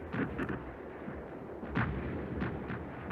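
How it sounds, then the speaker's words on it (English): Russian artillery and machine guns blazing on a flat trajectory during a river crossing in the Battle of Berlin, a rolling series of heavy booms and sharp bursts against a constant low rumble, distant and unbroken by talk. "Russian artillery and machine guns, firing on a flat trajectory, blazed all the while"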